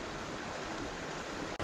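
A creek flows close by beside a rainbow trout fishing spot, a steady broad rushing wash of water with no talk, briefly cut near the end.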